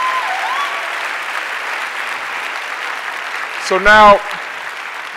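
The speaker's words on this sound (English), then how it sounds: "Let's give a big round of applause for all of our presenters who've gone tonight." Audience applause for presenters at a pitch competition final, a steady wash of clapping throughout, briefly interrupted by someone speaking near the end.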